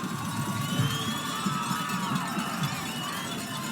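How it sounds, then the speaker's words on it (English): High school football playoff crowd cheering from the stands, a steady, moderately distant roar of voices and shouts that stays even throughout. "hear the crowd over here"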